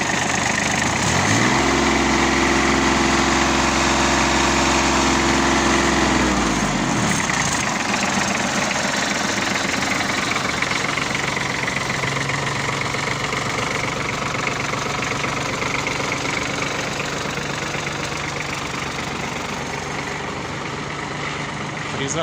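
An ISEKI TM15 tractor engine idling in minus 22 degree cold, a loud, steady, close chugging drone with a low pulsing hum that shifts slightly early on, then holds evenly to the end.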